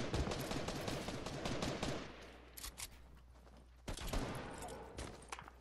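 Gunfire in a video game squad match: rapid bursts of shots crackle in quick succession, dense at first, then scattered single shots and a later burst, fairly faint overall.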